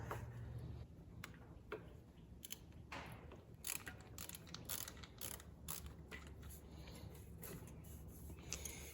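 Wrench ratcheting to loosen bolts while removing the carburetor from a 1986 Columbia utility cart: quiet, close, irregular metallic clicks and ticks repeating steadily throughout, with no talking.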